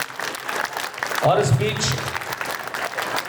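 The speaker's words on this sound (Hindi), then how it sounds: "तालियां रुकनी नहीं चाहिए हमारे मेहमानों के लिए" Applause from an audience welcoming guests at a school annual function, a steady broad clatter of clapping running under a man's amplified speech throughout.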